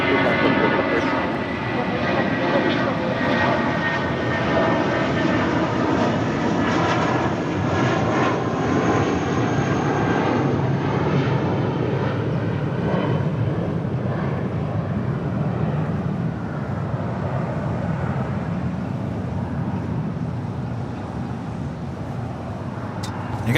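A heavy American jet airliner takes off from runway 25 right at LAX, its engines a broad, sustained roar heard from a distance that slowly thins and fades as the aircraft climbs away.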